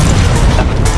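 A loud explosion in BattleBit Remastered, a dense booming roar filling the whole second with heavy low rumble and crackling debris.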